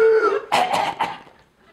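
A voice imitates a cough: a short voiced lead-in, then two or three harsh, breathy bursts up close, trailing off into quiet.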